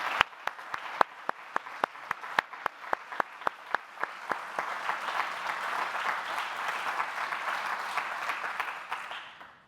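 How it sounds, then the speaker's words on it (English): Applause at a corporate diversity awards event. A few sharp, separate claps come first, then they thicken into a steady wash of clapping from the audience that holds, and finally it fades out at the end. "So a big round of applause for them."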